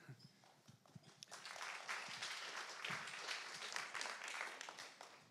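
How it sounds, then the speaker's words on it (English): Sustained applause from a conference audience at a London product-management meetup, a dense continuous patter of many hands clapping steadily throughout at moderate distance, with no talking over it. "It's always weird to be clapped just for standing on a stage"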